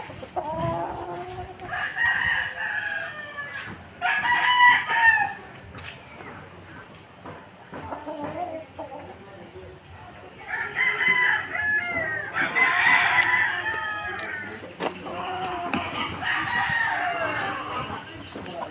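Texas gamecock roosters crow repeatedly at a farm, with several loud, drawn-out calls overlapping with clucking and a few faint voices between them.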